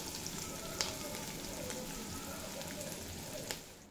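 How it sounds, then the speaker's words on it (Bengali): Okra (bhindi) fries in a pan with a continuous soft crackling sizzle and a couple of brief clicks, close but fairly quiet, with no voices. "আর বাকি ভেন্ডিগুলো ওই একইভাবে ভেজে নেব"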